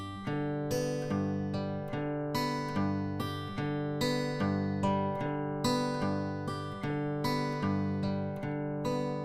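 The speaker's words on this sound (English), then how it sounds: "I'm going to include the second and the third string as well" Fingerpicked blues guitar alternating low bass notes with brighter notes on the second and third strings, an even, steady rhythm played up close without talking.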